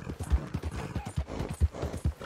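Horse hooves clip-clop in steady rhythmic thuds during riding in the Red Dead Redemption 2 video game, close and clear, about eight distinct beats in a trotting pattern.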